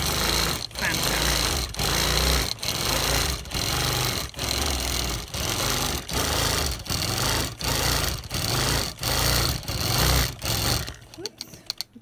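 A sewing machine couches yarn onto upholstery with a loud, steady mechanical rattle, pausing briefly at regular intervals before stopping near the end.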